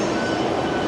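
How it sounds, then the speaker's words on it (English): A Hong Kong MRT train rumbles past close by, a steady, dense roar with rail noise filling the brief moment and no voices. "That's the train right there."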